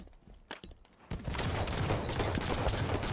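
Rapid gunfire in a Halo 1v1 tournament match, starting with a few scattered shots and then becoming a dense, continuous volley of shots and game effects that holds steady and loud to the end.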